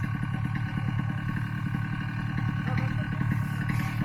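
A new paraglider propeller engine runs steadily while being broken in, a loud continuous close-up drone with a rapid pulsing chug throughout, with people talking over it.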